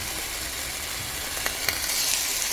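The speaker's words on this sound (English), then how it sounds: "Okay, so just fry up a little." Ginger and garlic paste frying on low heat in a pan for a cabbage and corned beef curry, a steady close sizzle with faint hiss and a couple of brief stirring clicks, no voices.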